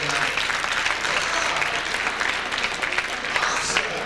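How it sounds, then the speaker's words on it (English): An audience at a peer leadership event claps in a continuous, fairly even burst of applause lasting several seconds. "Go ahead and clap if you're good at saving money."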